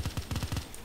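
Automatic gunfire in COD Mobile, a rapid burst of about seven close, evenly spaced shots within less than a second.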